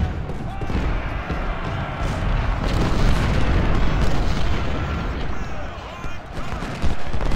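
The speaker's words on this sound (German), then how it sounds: "Kanonen." Heavy booms of cannon fire roll out repeatedly over a dense battle din in Ultimate General: Civil War, at the Battle of Cold Harbor, with voices shouting in the background.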